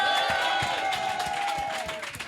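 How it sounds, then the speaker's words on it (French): Audience clapping and cheering from a crowd, a dense wash of applause with scattered claps that fades slightly over a couple of seconds, with voices mixed in. "Ah, on peut les applaudir bien fort"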